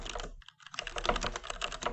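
Computer keyboard typing while writing code for a partition function, rapid close clicking keystrokes with a short pause early on, then a steady stream of taps.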